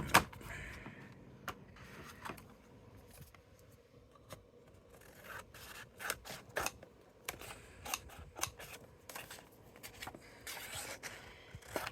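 Scissors trimming around a piece of card embossed with a Crafter's Companion Vintage Diary A Moment In Time folder, giving close, quiet irregular snips and paper scrapes with short pauses between cuts and no talk.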